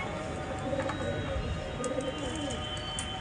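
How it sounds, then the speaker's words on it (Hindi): Soft, repeated pigeon cooing rolls along over a steady background hum, fairly close but quiet. "ये भी अच्छा कबूतर है ना भाई ये वाला"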